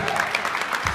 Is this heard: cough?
no